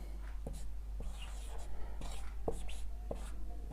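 Pen or marker strokes from someone writing out a math equation during a Class 10 maths lesson, a steady run of scratchy strokes with small taps, close and fairly quiet over a low constant hum.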